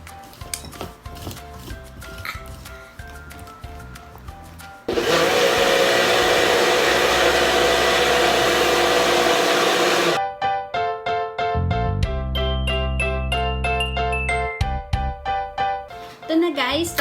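A blender mixing Milo, condensed milk and all-purpose cream runs as a loud, steady whir for about five seconds in the middle. Music plays before and after it.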